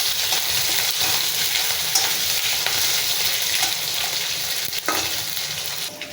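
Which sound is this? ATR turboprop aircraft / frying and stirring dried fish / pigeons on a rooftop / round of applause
frying and stirring dried fish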